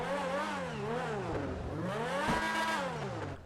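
A Progen Tyrus race car engine in the video game GTA 5 Online revs up and down in two sweeping, loud surges, harmonically rich and close, with nobody talking.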